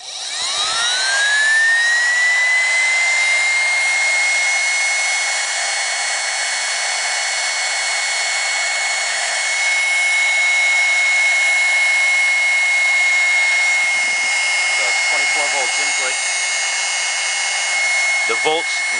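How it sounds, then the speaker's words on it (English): A vacuum cleaner motor with shorted armature windings, fed 24 volts DC through the rotor brushes only, spins up in a rising whine over a few seconds, then holds a loud, steady high-pitched drone. "connecting the rotor to the DC 24 volt source spins it up."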